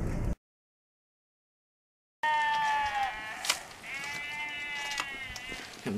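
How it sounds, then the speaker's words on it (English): Sheep bleating in a rural field beside a hedge being cut: after a brief silent gap, several loud, wavering bleats overlap and repeat close by. "Them damn sheep won't shut up."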